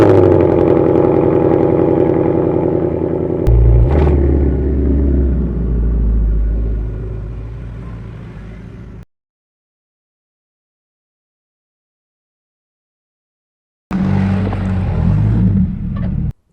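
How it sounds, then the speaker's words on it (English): An Audi RS5 engine idles then revs and rumbles as it drives into a garage, before cutting to silence; engine noise returns briefly at the end. "let's get that car out the garage and get that car in"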